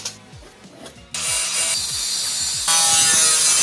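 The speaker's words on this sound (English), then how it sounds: "began cutting up the metal sheet so that it would match the faces of the hammer's head" Sheet metal is cut to shape for a hammer head in a garage workshop, a continuous rasping, grinding cut that jumps louder in steps and holds steady, close and with no talking.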